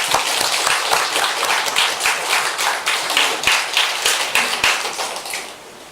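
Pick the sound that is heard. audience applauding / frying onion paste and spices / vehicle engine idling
audience applauding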